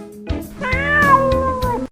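An adorable kitty gives one long, drawn-out meow, close and loud, its wavering tone rising and falling over quiet background noise.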